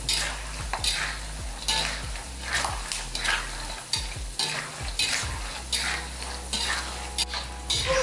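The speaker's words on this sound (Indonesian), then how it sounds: "Ini kita goreng sampai matang ya guys." Spice paste sizzles in a hot pan while a utensil stirs and scrapes it in repeated strokes, loud and close, no talking.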